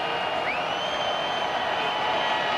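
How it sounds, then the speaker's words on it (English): A stadium crowd at a Louisville versus Stanford college football game roars in a steady, dense wash of cheering, with a whistle-like tone sliding upward above it. "Crowd getting fired up."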